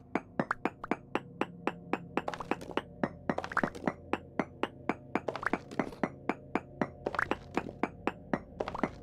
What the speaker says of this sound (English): So I think I want to chisel out all the connecting zincs